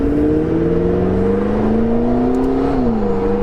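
A McLaren 650S Spider's engine hums up through the gears with a rising, smooth exhaust drone from inside the cabin, then dips briefly and settles, steady and fairly loud throughout.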